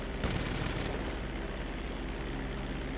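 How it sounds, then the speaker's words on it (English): A short burst of rapid machine-gun fire from the Mammoth Streamer 216 propeller plane in GTA Online, lasting under a second, then only the plane's steady, droning engine continues. "Okay, these machine guns sound a little different."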